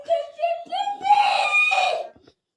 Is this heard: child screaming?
yes